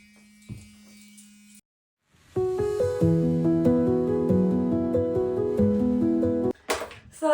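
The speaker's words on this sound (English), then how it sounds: "the first thing I do in the morning is just use my Foreo machine" A Foreo facial cleansing device gives a steady, low electric buzz for about a second and a half near the start, then goes quiet before music takes over.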